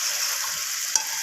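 Chicken and potatoes are stir-fried with salt in a pan, making a short, steady close sizzle broken by one quick scrape of a spoon.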